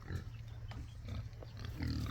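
A gentle breeding pair of pigs grunt close by in low, repeated snorting bursts that rise louder toward the end, with no talking over them.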